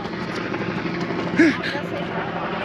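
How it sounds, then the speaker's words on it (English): A helicopter drones steadily in the background, a continuous low engine hum, with a brief voice rising over it midway. "That is a pretty nifty looking helicopter."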